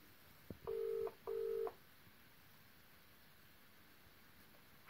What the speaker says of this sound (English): let's call Mrs. Rosen then